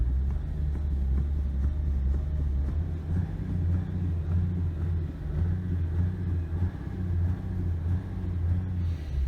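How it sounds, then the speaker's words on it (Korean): A Hyundai Veracruz engine idles with a low, steady rumble and faint hum inside the car, even and unbroken, with no talk over it. "자 노이즈 테스트 한번 해볼게요 자 시동 걸려 있습니다"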